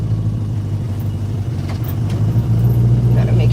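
A 1968 Ford Mustang's engine rumbles loud and close as the car pulls away in first gear on a street by a school, the low drone holding steady and swelling slightly toward the end.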